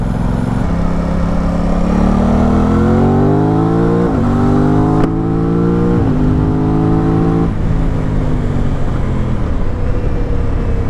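An Aprilia RS660 motorcycle engine revs and accelerates loudly and close through several rising gear pulls, with a brief dip between shifts and a steady, powerful drone throughout.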